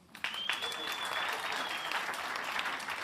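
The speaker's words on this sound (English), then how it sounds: "Give Tammy a round of applause." A crowd claps steadily for a few seconds. The applause is loud and sustained, with a high whistle-like tone running over it early on.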